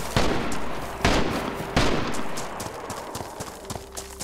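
SVD sniper rifle in DayZ on the Deer Isle map, three loud separate shots spaced about a second apart, each followed by a rolling echo, then fainter distant pops.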